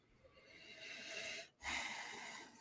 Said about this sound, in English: I need to stop sniffing it.